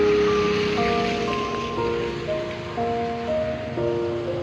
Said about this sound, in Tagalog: Lakas pa naman ang ulan, oh.